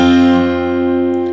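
A single ringing acoustic guitar chord in open D tuning with a capo, a D shape strummed once and left to sustain, bright and fairly loud.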